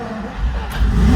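A Ferrari engine turning over and catching for its first start after a restoration project, with a deep, rough, close rumble that swells louder toward the end.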